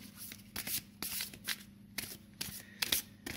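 A brand-new, stiff oracle card deck being shuffled by hand, several quick riffling bursts in a steady rhythm, close and clear with no talk.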